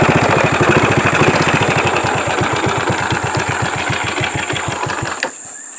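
A motorcycle engine idles close by with a steady, rapid low putter and a constant high whine, running unbroken for several seconds before a brief clunk near the end.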